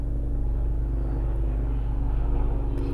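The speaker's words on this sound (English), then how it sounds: "Now the plane just flew over." An airplane passes overhead outdoors, heard as a steady low rumble and drone that holds evenly throughout, fairly loud and continuous, with no talking.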